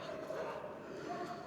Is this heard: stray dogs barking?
yes